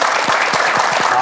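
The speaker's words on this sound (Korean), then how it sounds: "박수로 맞아주시겠습니까?" Brief burst of lively studio audience applause on a KBS talk show, a continuous patter of many hands clapping close and fairly loud.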